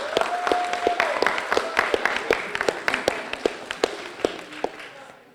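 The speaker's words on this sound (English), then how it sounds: "let's give them all a round of applause" An audience at the Kilburn Mill ribbon cutting claps in a brief burst of applause, with crisp, scattered claps that thin out and fade over about five seconds.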